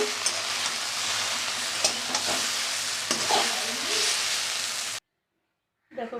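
Taro stolons fry in a pan with loud, continuous hiss and sizzle, occasional stirring scrapes and clinks, then cut off abruptly into silence before a brief noise at the end.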